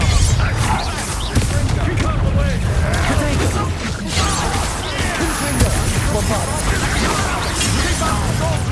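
Expelliarmus and other combat spells in the Hogwarts Legacy video game: a dense, continuous barrage of booming blasts, crashes and rapid impacts, loud throughout, with voices over the top.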